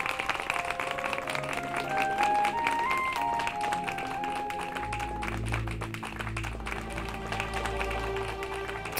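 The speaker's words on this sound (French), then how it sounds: "je vous demande d'applaudir le comportement exemplaire de Krishi" An audience applauds in a staged scene from a French-dubbed TV drama series: steady, dense clapping that continues for several seconds beneath tonal background music, with a low rumble joining partway through.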